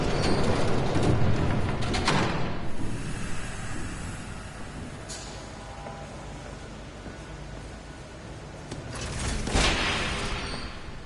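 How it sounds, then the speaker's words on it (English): A train passes in Telltale Batman, a broad rumbling wash that swells, eases through the middle and builds again near the end, with a few brighter bursts and no talk. "There's a train coming."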